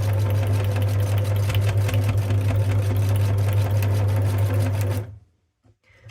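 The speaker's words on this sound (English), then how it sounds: "So I start at the top and just do a zigzag. It's all set up for zigzag." A sewing machine runs a zigzag stitch across fabric, tabs being sewn for a fabric page. A loud, steady mechanical whir with fast needle ticking fills the first five seconds, then it stops abruptly, leaving near silence.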